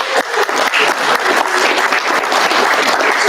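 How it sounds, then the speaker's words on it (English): A room of amateur radio club members applauds their sponsor, the city emergency manager, at a monthly meeting: steady dense clapping, fairly close and loud, continuous throughout with no talking over it. "I'm going to give him a clap."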